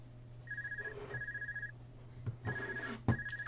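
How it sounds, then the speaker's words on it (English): The ARCUS communicator in Trails of Cold Steel rings with a repeating electronic trill in several bursts under a steady low hum, with a couple of soft clicks between them. "The Arcus is ringing."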